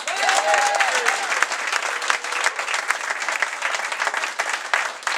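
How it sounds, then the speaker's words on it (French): Audience applause at a comedy night in a bistro bar, dense steady clapping filling the room for several seconds, with a few faint voices at the start. "Si on commençait ça par une bonne main d'applaudissements pour le Bistrot Bar au Gémeaux"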